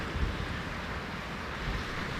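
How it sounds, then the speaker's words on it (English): Strong gusting wind, up to around 80 km/h, drives big waves on Clear Lake, heard as a dense, rumbling roar of wind buffeting and surf washing without any voices. "The wind was kicking up big waves here on Clear Lake"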